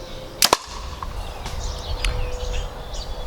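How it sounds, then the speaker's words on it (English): A Muzzy Trocar Switch broadhead arrow strikes an old telephone pole with a sharp, close double crack, followed by quiet outdoor ambience. "I'm gonna shoot that broadhead on the 1 1/4 cut into an old telephone pole"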